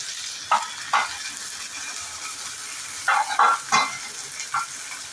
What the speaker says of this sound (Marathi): कांदा भाजलाय, आता टाकायचा आहे कुप्पा माशाचे तुकडे।